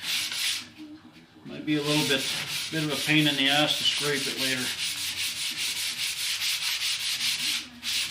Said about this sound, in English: I'm going to make sure that everything is sanded with 400